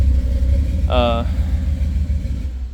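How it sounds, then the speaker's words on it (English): An old car pulls up with a loud, steady low engine rumble that runs throughout, and a brief tonal burst rises over it near the start. "my dad just pulled up in his old car"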